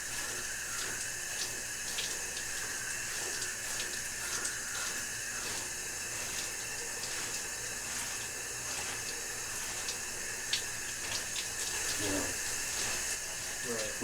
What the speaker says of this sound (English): The jeans have been washed in the shower